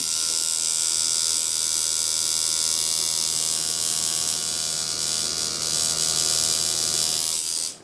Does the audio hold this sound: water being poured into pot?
no